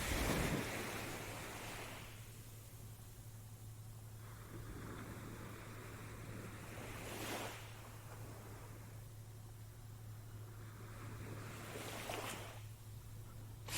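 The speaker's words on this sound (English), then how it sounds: "Listen to the sound of the ocean." Ocean waves rolling onto an island shore, a steady wash of surf with distinct swells cresting and breaking every few seconds, soft and continuous with a low wind-like rumble underneath.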